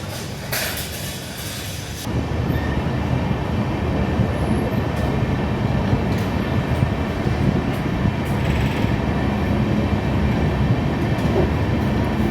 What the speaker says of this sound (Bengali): আমাদের আজমির এক্সপ্রেস দুর্গাপুর জনসন ফেলে এগিয়ে চলেছে